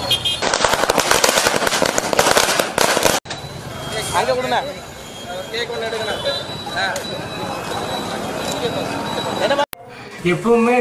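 Firecrackers burst in a dense, rapid crackling volley at a street celebration of a TASMAC liquor shop reopening during the Tamil Nadu lockdown. The bursts are loud and close, then give way to crowd chatter and shouting with scattered pops.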